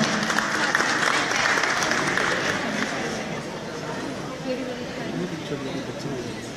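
An audience at the Miss and Mrs Punjaban Winnipeg 2017 stage show applauds, loud and dense at first and then easing off slightly, with crowd chatter running under the clapping.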